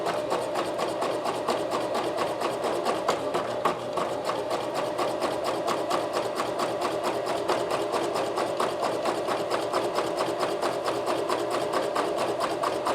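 A Janome CoverPro 1000CPX coverstitch machine runs steadily through heavy layers of fabric, a continuous rapid needle clatter that keeps an even pace from start to finish with no talking.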